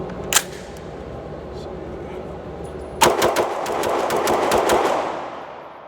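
A Tiger Rock 9mm AR upper fed from Glock-pattern magazines fires a single sharp shot, then after a pause a quick string of close, loud rapid shots ending in a double feed.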